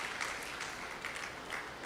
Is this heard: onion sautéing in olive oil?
no